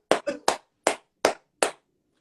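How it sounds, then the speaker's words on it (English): Six distinct hand claps ring out one after another in an uneven rhythm, sharp and close, with silence between them. "Let's give a round of applause."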